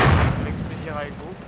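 A single heavy tank cannon shot booms in the World of Tanks video game, a loud blast that decays into a rumbling tail, with game sounds behind it.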